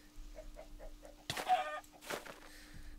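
Chickens cluck in the Mineplex Minecraft minigame Bawk Bawk Battles: a row of soft, evenly spaced clucks, then louder, busier squawking bursts close up, with no talking.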